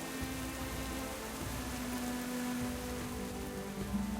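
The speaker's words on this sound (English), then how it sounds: "Bit of a rainy day on the Waking Shores." Steady rain falls across the Waking Shores in World of Warcraft Dragonflight, a soft even hiss of drops on surfaces with a faint low hum beneath, constant and unbroken, no talking.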